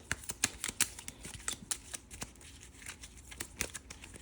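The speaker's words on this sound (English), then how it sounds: "we can shuffle these up quickly" Spice cards from the Dune board game are shuffled by hand, giving a quiet, close series of quick riffling flutters and soft card snaps in an irregular rhythm.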